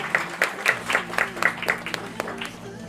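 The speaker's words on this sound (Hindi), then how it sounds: "तालियां।" An audience claps for the announced winner at an awards event, a sparse run of distinct, fairly close handclaps in a loose rhythm that fades after a couple of seconds, with faint background murmur.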